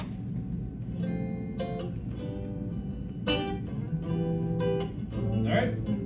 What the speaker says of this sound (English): So, the guitar amp sounds like this.